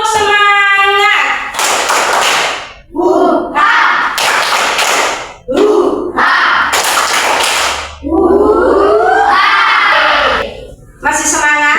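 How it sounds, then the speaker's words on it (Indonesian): A classroom group does a rhythmic clapping chant together, bursts of loud clapping and children's voices alternating with chanted words, repeated several times over about twelve seconds. "Mari kita tepuk semangat untuk kelompok 1."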